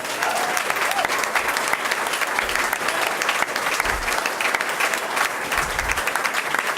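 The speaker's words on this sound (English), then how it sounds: "So let's give them a round of applause." An audience applauds at a Rights and Democracy event, brisk, dense clapping that runs steadily throughout without a break.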